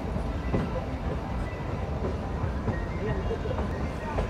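Shimla-Kalka narrow-gauge toy train pulling out of Kandaghat, a small hill station, with a continuous low rumble and faint rhythmic rail clatter close by, and a voice talking over it.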